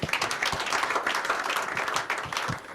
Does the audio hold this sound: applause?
yes